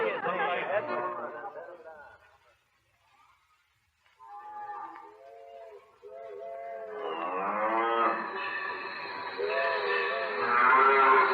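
A herd of cattle lowing in a radio drama sound effect: several drawn-out moos overlap at moderate volume, with voices talking over the start and end and a short near-silent gap between.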